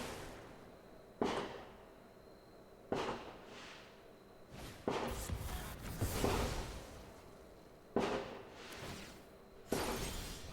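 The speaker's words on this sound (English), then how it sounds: "The neighbors are firing off fireworks." Neighbors' fireworks go off outdoors in about six separate sharp bursts, each a sudden crackling bang that fades into a hissing, shimmering tail, spaced a second or two apart.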